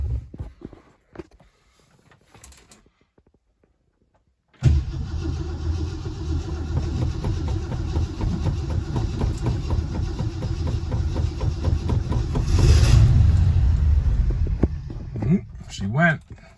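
A 1966 Ford Thunderbird cranks and fires on a cold start after a few seconds of near silence and small clicks, then settles into a loud, steady idle that swells briefly before a voice speaks near the end.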